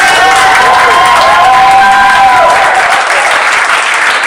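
A comedy club crowd at a live stand-up show in Kingston applauds and cheers loudly, dense clapping mixed with whoops and a few sustained shouts, filling the room continuously.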